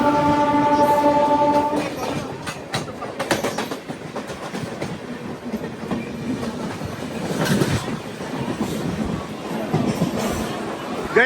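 A Jan Shatabdi train with its locomotive passing close by, a blaring horn at the start followed by loud rumbling and rhythmic clickety-clack of the wagons, heard from another train during a rail journey near Chirala.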